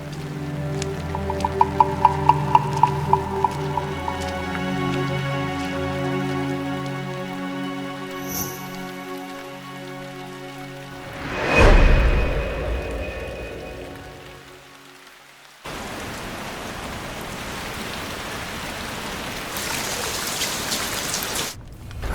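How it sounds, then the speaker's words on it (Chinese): Sudden rain falls steadily, a broad hiss that builds with a brief swell midway, then continues alone as a dense, even downpour. "这雨下得突然"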